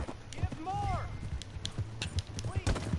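In Red Dead Redemption 2, horse hooves pound in a quick galloping rhythm under shouted voices and a brief horse whinny, fairly close and moderately loud.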